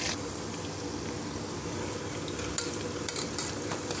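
Onion and curry leaves fry in a pan for a South Indian pulusu, a dense continuous sizzle with scraping stirring and occasional spoon knocks close by, no one speaking.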